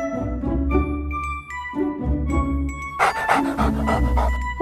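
A dog pants in quick, steady breaths up close, with bright jingling chimes and a busy musical backdrop swelling toward the end.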